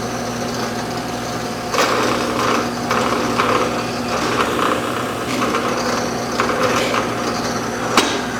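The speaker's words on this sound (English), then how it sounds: "So let's drill a hole in that." Drill press boring a hole into a piece of soft poplar wood: a steady high motor whine with irregular bursts of cutting noise and a sharp knock near the end.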